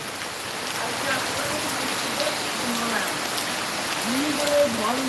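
Heavy monsoon rain from a depression pours down in a dense, steady hiss, with faint voices under the downpour.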